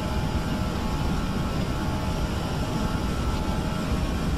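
Airliner engines spooling at takeoff thrust in a flight simulator game on a departure from Vienna, a loud, steady broadband roar that holds constant throughout with no voices.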